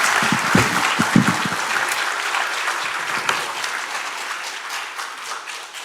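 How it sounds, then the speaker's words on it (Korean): A lecture audience at a Korean political talk claps after the speech ends, a sustained, dense round of applause with a few sharp claps at the start that holds steady, then eases slightly. "다시 한번 큰 박수 부탁드립니다."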